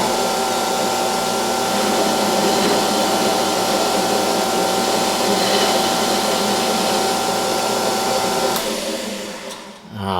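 Metal lathe cutting a shoulder on a shaft, a steady loud whirring drone with a faint high tone, running evenly for most of the stretch before winding down near the end.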